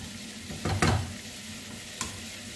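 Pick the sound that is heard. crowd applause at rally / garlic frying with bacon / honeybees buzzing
garlic frying with bacon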